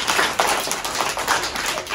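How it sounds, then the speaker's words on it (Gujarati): An audience applauds to welcome a charitable trust with brisk, uneven clapping from a modest crowd, moderately loud and continuous for a short burst. "આપણે સૌ પ્રથમ બાલ મિશન ચેરિટેબલ ટ્રસ્ટને આભાર માની આપણે એમને તાળીઓથી વધાવી છે"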